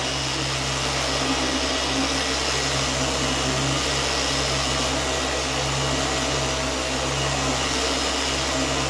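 A dual action buffer polishes car paint with compound, a loud steady whirring drone with a constant hum running unbroken throughout, close to the machine.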